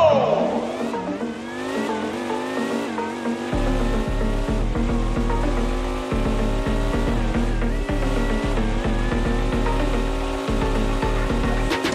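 Race cars roar through a Roblox Vehicle Legends desert race, with a sustained loud engine drone that rises and falls in pitch as they shift gears, plus a few sharp tire-skid bursts.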